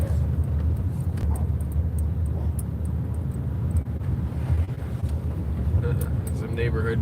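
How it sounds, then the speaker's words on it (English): A car approaching on a neighborhood street, a steady low rumble heard outdoors under wind noise on the microphone, staying fairly constant as it draws near. "Got a car coming up one way."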